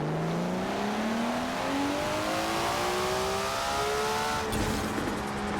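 A drag-tuned Toyota Celica engine in Forza Horizon 4 revs hard and climbs steadily in pitch as it accelerates, loud and close, with a brief gear-shift dip near the end.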